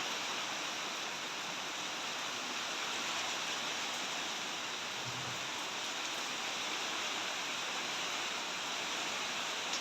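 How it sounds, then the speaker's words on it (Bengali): Heavy rain drums steadily on a tin roof during a downpour at home, a dense, even wash of noise with no pauses and no voices. "আওয়াজ তো পাচ্ছই তোমরা নিশ্চয়ই টিনের উপরে তো কী করে পড়ছে বৃষ্টি"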